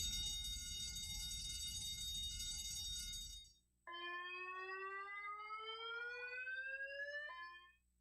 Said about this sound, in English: If you hear this alarm, it signifies that there is an emergency.